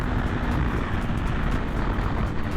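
2021 BMW S1000RR-style sport motorcycle engine revving hard out of first gear during a wheelie attempt, a loud continuous roaring drone close by with no pauses.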